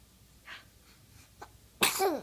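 A single sharp sneeze bursts out near the end after a couple of soft breaths and small sounds, close and loud against a quiet room.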